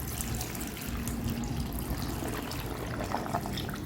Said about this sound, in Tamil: இப்போ பாட்டி மொத்தம் வந்து ரெண்டு லிட்ரு நூறு எம்எல் தண்ணி வச்சுருக்கேன் அதை ஊற்றிக்கலாம்